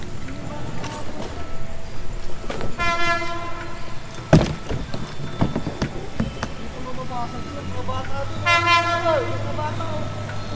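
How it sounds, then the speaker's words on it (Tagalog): A Philippine National Railways train rumbles past, sounding two loud horn blasts a few seconds apart over steady rail noise, with people talking nearby. "Dadaan yung tren."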